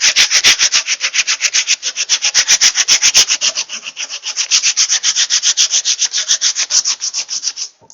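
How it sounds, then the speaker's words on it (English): A textured craft surface being sanded by hand: rapid, rhythmic back-and-forth rubbing strokes, loud and close, in steady bursts with a short pause partway through. "And then the fossil, the same. You sand it."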